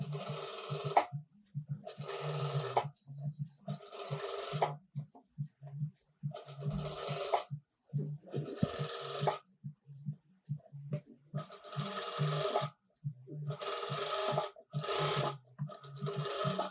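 A sewing machine runs in short bursts while stitching a small hem around a garment sleeve, its quick mechanical whirr starting and stopping repeatedly with silent gaps between runs, close and moderately quiet.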